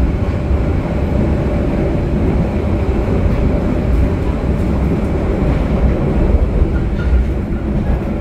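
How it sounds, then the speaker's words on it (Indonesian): The Mutiara Timur passenger train rumbles loudly and continuously as it departs Banyuwangi station, a steady heavy roar with no pauses. "kereta api Mutiara Timur sudah meninggalkan kota Banyuwangi"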